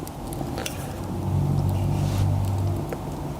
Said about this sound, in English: You can probably just hear the cars and the traffic